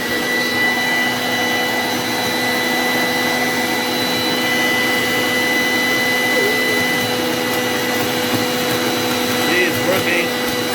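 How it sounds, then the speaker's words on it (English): A Makute 2-in-1 blower/vacuum runs steadily throughout, its constant motor whine and rushing airflow loud and close as it sucks up pieces of paper. "Let's try to vacuum these pieces of paper."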